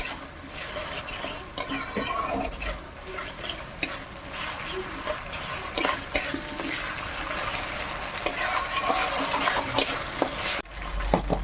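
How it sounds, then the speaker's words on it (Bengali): Ginger garlic paste frying in a pan, with a continuous sizzle broken by frequent spoon stirring and scraping clatter, close and moderately loud, with no voices. "আদা রসুন ভালোভাবে ভাজা হয়ে গেছে"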